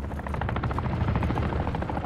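A helicopter's rotor thumps steadily in a rapid, droning pulse, loud and continuous, with a low rumble underneath, in the video game Call of Duty: Modern Warfare 3.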